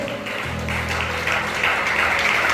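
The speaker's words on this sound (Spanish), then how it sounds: "den un fuerte aplauso al Señor" A church congregation breaks into loud, sustained applause, a dense wash of clapping that swells and holds steady, with a low sustained musical tone running beneath it.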